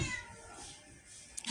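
A cat meows outdoors near a house, a couple of short, fairly faint calls rising above low background noise, with a brief sharper sound near the end.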